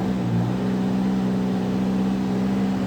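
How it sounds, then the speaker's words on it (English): A Chevy Aveo engine held in gear against the brake for a transmission line pressure test gives a steady, loud drone with a slight rise at the start, then an even hum. "Keep your foot on the brake and give it some gas"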